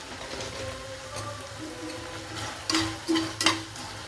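Jaggery being stirred into bitter gourd pachadi in a pan, with a soft scraping and gentle sizzle, then a few sharper clinks of a spoon against the pan near the end.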